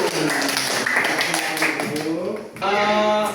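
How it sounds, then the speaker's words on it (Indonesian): Students in a classroom clapping for a group of classmates, a quick run of claps blended with children's voices talking and calling out at the same time, fairly loud and close. "silakan tepuk tangan untuk kelompok 1"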